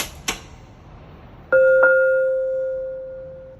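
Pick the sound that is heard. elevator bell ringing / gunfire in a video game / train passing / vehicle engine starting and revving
elevator bell ringing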